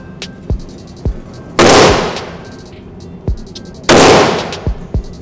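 Small-calibre gunshots fire on a shooting range, two loud sharp reports about two seconds apart with decaying echo, plus several fainter distant shots popping in the background.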